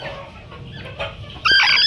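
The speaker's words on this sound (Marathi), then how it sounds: "ही एक कोंबडी खोड आहे" A broody hen sitting on eggs in an oil-tin nest clucks close by, a low murmuring grumble that swells into a loud, sharp burst of agitated clucking at the end.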